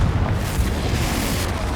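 A Confringo spell explosion in Hogwarts Legacy, a loud, dense blast with rumbling low end that fills the whole moment without letting up, with no talk over it.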